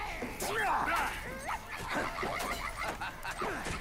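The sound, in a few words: dog barking in video game Travis Strikes Again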